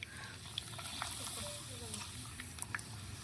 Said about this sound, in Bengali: পাঁপড় ভাজা স্টার্ট হয়ে গেছে